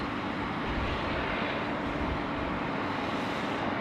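Qantas 75 Heavy airliner departing Sydney Airport, a steady broadband jet engine roar heard from a distance, constant in level throughout with no voices.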